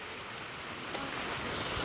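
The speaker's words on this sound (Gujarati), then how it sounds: "કેટલો વરસાદ ચાલુ છે ઘણો વરસાદ છે" Heavy rain falls in a dense, unbroken hiss that stays steady and fairly loud from start to finish, with no voices.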